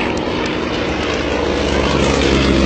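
Two propeller planes, a Yak-18 and a Yak-55, take off together. Their engines roar loud and close in a continuous droning buzz with no pause.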